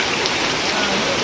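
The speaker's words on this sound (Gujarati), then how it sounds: "અત્યારે અહીંયા વરસાદ પાછો ફૂલ શરૂ થઈ ગયો." Heavy rain pouring down in Pittalpur village, Gujarat, a steady dense hiss of large drops striking surfaces, loud and continuous throughout.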